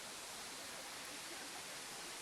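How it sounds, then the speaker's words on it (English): Steady broadband rush of the waterfall at Fallingwater in Pennsylvania, a constant faint wash of falling water with no breaks and no voices. "Beautiful waterfall."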